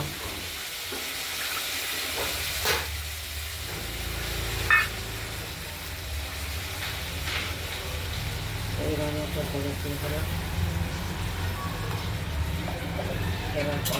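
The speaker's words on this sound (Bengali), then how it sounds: "মশলাটা দিয়ে দিলাম কষানোর জন্য" Spice paste sizzling in a pan for a rohu fish curry with potato, beans, tomato and coriander, a steady, even hiss close by with faint voices in the background.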